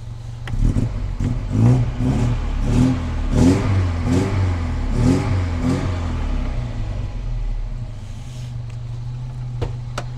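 An Alfa Romeo engine brought home from Magstadt runs close by, revving in several rising bursts over a steady idle, then settling back to a smooth, quiet hum.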